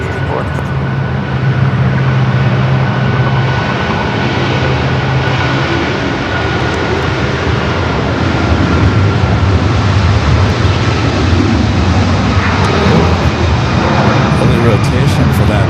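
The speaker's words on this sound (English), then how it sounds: "Early rotation for that A330." An Airbus A330 taking off at LAX gives a loud, continuous jet-engine roar that holds steady and builds slightly over the whole stretch.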